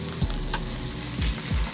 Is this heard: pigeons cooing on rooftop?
no